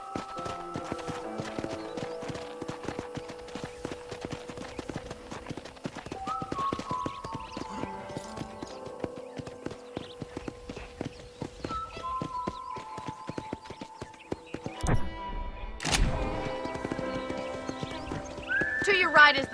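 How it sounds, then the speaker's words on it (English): A horse ridden through a ranch in Red Dead Redemption clip-clops in a steady rhythm at close range, with occasional whinnies, beneath in-game speech and music. "let's see if you can still ride a horse"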